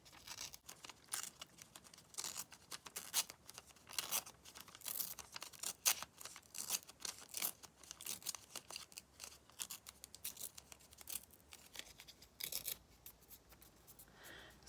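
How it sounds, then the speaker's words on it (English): Card paper being torn by hand while making a Stampin' Up! Eden's Garden card, with a soft succulent piece pulled forward into wispy edges; close, dry ripping and rustling bursts repeat throughout, with no talking. "Just tear it forward."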